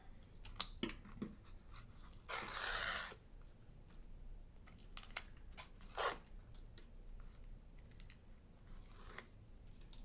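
Tape backings peeled off a scrapbook cover give a few short, faint tearing rasps, separated by quiet paper handling and light rustling nearby.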